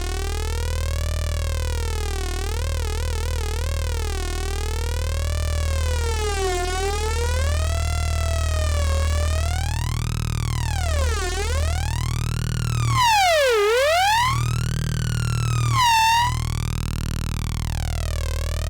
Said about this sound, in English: just a self-oscillating, wild, screamy flanger that you can add to one of the sections